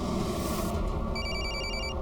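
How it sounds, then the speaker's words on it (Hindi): Telephone bell ringing in quick repeated electronic trills, faint and set back behind a steady low hum, in short bursts across the second half. "उसके फोन पर फोन कीजिए जल्दी"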